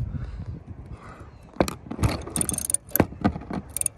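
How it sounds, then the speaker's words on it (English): Ratchet loosening a 15 mm bolt at the windshield cowl of a Dodge Charger, heard as several short clicking, ratcheting bursts after a quieter start, close by with no talking. "it will expose a 15 millimeter ratchet, a 15 millimeter bolt for you to loosen up"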